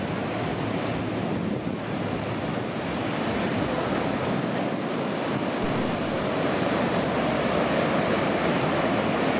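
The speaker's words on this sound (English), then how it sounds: "Valovi su ogromni." Large ocean waves breaking on a Goa beach on the Indian Ocean, a loud continuous roar of surf with wind buffeting the microphone and no voices.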